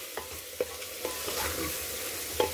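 Vegetables fry with spices for veg biryani in a pressure cooker, a steady close sizzle broken by several sharp scrapes and knocks of a spoon stirring the pan.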